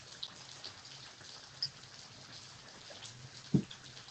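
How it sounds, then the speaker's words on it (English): Light rain patters steadily outdoors as it eases off, a soft, even hiss with a few scattered louder drops, faint and without any voices. "the rain kind of is subsiding a little bit, so you can hear me better."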